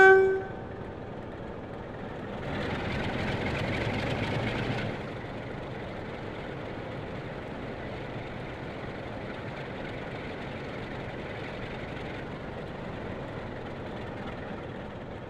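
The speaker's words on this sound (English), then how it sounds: "The driver shunts the train into the platform." A diesel locomotive shunts its train into a station platform, giving a brief horn toot, a couple of seconds of louder rumbling, then a long steady engine drone heard from the cab.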